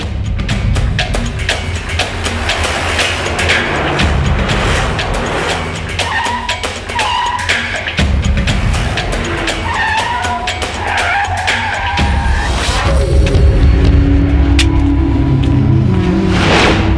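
Car tyres skidding and squealing in a Hindi dubbed action movie, loud repeated screeches over roaring engine noise and whooshes, with no talk.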